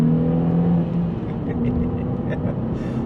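An MG3 hatchback fitted with a custom Powerflow exhaust idles and revs close by, a steady low engine rumble with a slight swell, and a voice is heard faintly over it.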